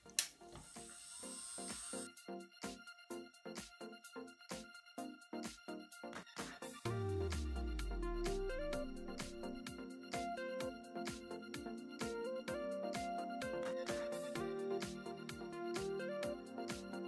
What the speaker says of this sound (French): je prends ma ponceuse.